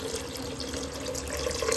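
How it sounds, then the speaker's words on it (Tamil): Water is poured into a cooking pot for mushroom biryani, a steady close splashing flow that grows slightly louder toward the end. "இந்த நேரத்தில் வந்து நம்ம தண்ணி ஊற்றிக்கலாம்."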